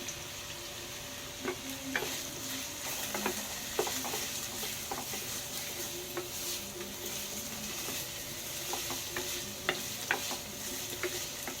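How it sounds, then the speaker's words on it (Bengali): Potatoes and chopped onion frying in a pan give a continuous soft sizzle, broken by intermittent scraping taps of stirring, close and moderately quiet. "এবারে যে পেঁয়াজ আমি কুচানো রেখেছিলাম সেটা দিয়ে দেবো, দিয়ে ভালোভাবে ভাজবো"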